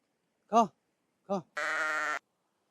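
Goats on a goat farm bleat close by in three calls: two short wavering bleats, then a longer, strained one, all against near silence.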